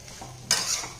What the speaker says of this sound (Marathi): मीडियम गॅसवरच हे पोहे मस्त असे आपल्याला मिक्स करून घ्यायचे आहेत